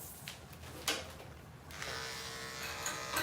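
Electric dog clippers fitted with a 10 blade and E guard shave a Goldendoodle, a close steady motor buzz that starts softly, rises in pitch and volume, then drones on continuously.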